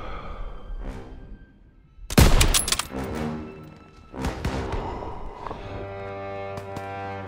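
Gunfire pounds a machine gun nest in Call of Duty WWII as a sharp, loud shot and several thudding impacts stand out over ongoing battle noise and a sustained musical score.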